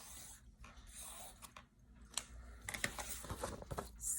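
Marker or pen scratches a big X onto paper, a few quiet scratchy strokes and rubs close up in a calm room.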